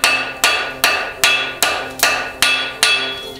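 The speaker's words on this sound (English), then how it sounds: "So I just hammer into that spot, turn the shoe slightly" A farrier hammers a steel horseshoe on an anvil while forging a clip, eight loud, ringing metallic strikes at a steady, even rhythm, each blow decaying before the next, with no talk.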